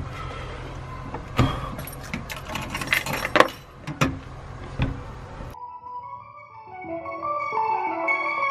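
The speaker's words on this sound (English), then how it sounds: "Two front door keys, mm-hmm. A stupid little key fob thing." Two front door keys and a key fob rattle and clink together close by in several bursts of metallic jangling, then give way abruptly to a different tonal sound in the final seconds.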